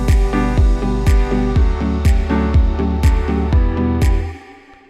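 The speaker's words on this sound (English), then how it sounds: "if I want to hear the chorus 2, it sounds like this" Chorus section of a song played back in FL Studio, with a steady beat of punchy kicks under sustained chords and bright periodic accents, fairly loud and full until it cuts off just before the end.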